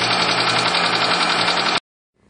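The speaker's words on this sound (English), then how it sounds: "go ahead and start the car so that the water will be sucked into the engine" A 2002 Mitsubishi Eclipse GS engine runs loud and steady at close range during a radiator coolant flush, a constant mechanical drone with a faint knock that cuts off abruptly near the end.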